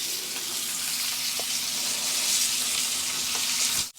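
A5 wagyu steak sizzles loudly and steadily in a hot pan, rendering fat crackling as a dense continuous hiss with a few small pops, close and alone before cutting off at the end.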